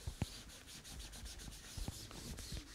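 Dry, scratchy rubbing and wiping across a chalkboard-like art surface, heard as a run of soft brushing strokes with a few sharper taps, close and fairly quiet with no talking.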